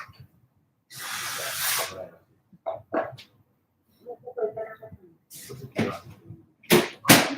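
Stray dogs bark outdoors in Japan, a loud burst followed by several shorter irregular barks and noisy bursts spread over a few seconds, with no one talking.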